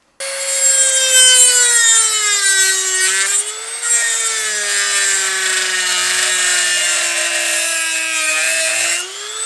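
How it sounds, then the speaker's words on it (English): A Dremel with a cutoff wheel or a sander grinds steadily on a part for a 2002 Honda XR400. The whine is loud and close and runs continuously for several seconds, with its pitch shifting as the load changes. "It's typically easiest with a Dremel with like a cutoff wheel, or if you wanted, you could do it with a sander the whole way"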